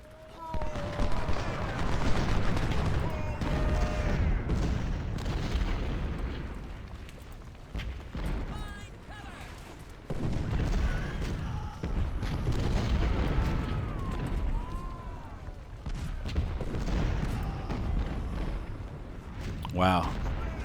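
Booming artillery and gunfire from a Civil War battle in Ultimate General: Civil War, sounding as dense repeated blasts and rumbles that run throughout, mixed with talk and game sound.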